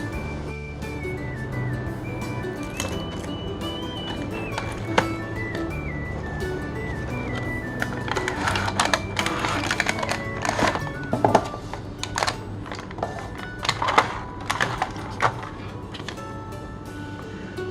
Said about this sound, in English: Let's quickly unbox now.